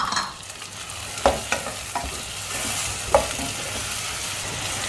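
Onions sauté in a pan for a fish curry, a soft continuous sizzle with a few sharp spoon scrapes and clicks against the pan, close by, with no one speaking.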